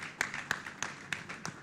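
Sparse, scattered hand claps from a small conference audience, a handful of distinct slaps spaced irregularly over a moment, fairly faint and thin.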